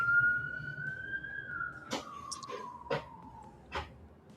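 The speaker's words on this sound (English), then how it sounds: "No, that's my siren." A single car siren tone holds steady, then slowly falls in pitch, moderately distant, with a few short clicks and knocks over it.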